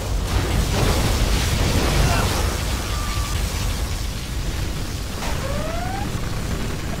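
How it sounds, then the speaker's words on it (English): Particle cannon fire and booming blasts from a Command & Conquer Generals battle form a dense, loud, continuous roar of explosions, with a couple of brief whistling streaks cutting through near the end. "Gunship reporting in. Particle cannon activated."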